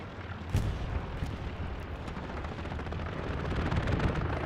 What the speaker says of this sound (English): nice artillery round over there down below